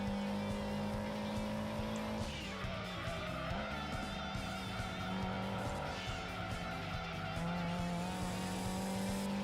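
Race car engines in Gran Turismo 2 drone with a steady, buzzy whine that shifts pitch once, alongside tire squeal, continuous and moderately loud with no talking.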